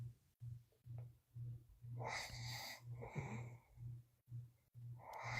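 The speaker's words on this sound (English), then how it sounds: "I don't want to hear the snoring" A caller snores over a phone line, slow rhythmic rasping breaths repeating steadily with a low hum underneath and occasional louder wheezy exhales.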